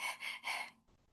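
A person demonstrates quick, shallow chest breathing: two sharp gasping inhalations in close succession, breathy and near, then a fainter exhale trailing off into quiet.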